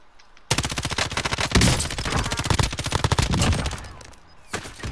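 Rapid automatic gunfire in Call of Duty Warzone, with long close bursts of quick, evenly spaced shots that keep going for several seconds before tapering into a few scattered final rounds.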